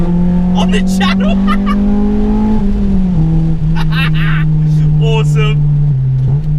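A Honda Civic EP3 Type R engine holds a steady, loud harmonic drone with pitch shifts as revs change, with brief chatter of voices over it.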